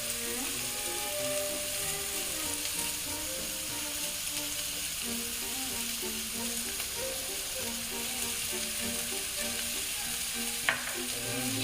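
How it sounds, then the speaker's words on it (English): Shallots and garlic sauté steadily in a pan, giving a continuous close sizzle with faint stirring scrapes and one brief click near the end. "I want to saute those up too a little bit to get brown."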